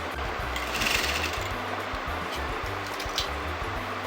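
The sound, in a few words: sewing machine stitching fabric at the margin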